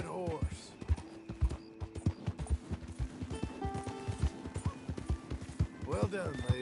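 A horse's hooves clip-clop at a steady walking rhythm in the Red Dead Redemption 2 video game, each strike distinct and close, with a voice talking briefly at the start and end.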